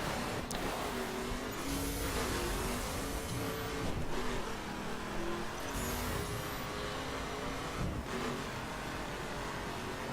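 Engine of a 2011 Ford Mustang GT driven off-road in The Crew racing game, a sustained revving drone with shifting pitch and faint gear changes, steady and moderately quiet with no voices.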